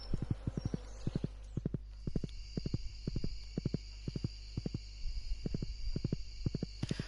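Steady clip-clop of horse hooves trotting at an even rhythm in Stardew Valley, fairly close, with a faint whinny and a continuous background hum.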